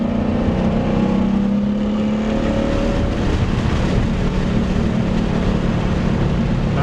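A car accelerates at full throttle on the Road Atlanta race track, its engine note rising loudly and close before settling into a sustained, gritty roar with wind and road noise.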